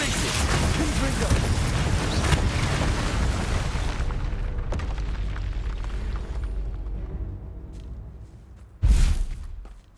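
Spell blasts and booming magical impacts from the Hogwarts Legacy video game, loud and dense for several seconds, with a late sharp burst near the end; a voice speaks over the action.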